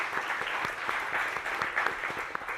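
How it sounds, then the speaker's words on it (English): A crowd claps steadily and densely throughout, a sustained round of applause at a District 21 congressional debate, with no voices on top. "Let's give her a round of applause."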